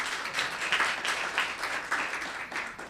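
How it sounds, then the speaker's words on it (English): A round of applause rises from the audience at a town council meeting, soft and fairly distant, a steady patter of many hands clapping. "Round of applause."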